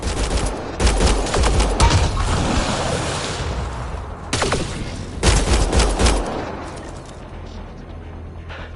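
Heavy gunfire fills a Mass Effect Andromeda firefight, with dense rapid volleys and booming blasts in two main clusters and a quieter rumbling tail at the end.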